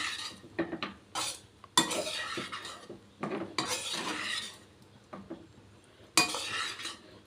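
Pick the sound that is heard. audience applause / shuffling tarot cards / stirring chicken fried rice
stirring chicken fried rice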